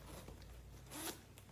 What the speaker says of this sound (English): Zipper closure.